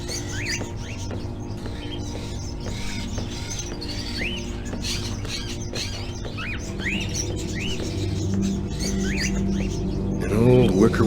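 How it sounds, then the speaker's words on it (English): Caged crows call in an old house in the video game Fahrenheit, sounding as repeated sharp calls over a steady low ambient hum, with a louder swell near the end. "Are those crows in the cages?"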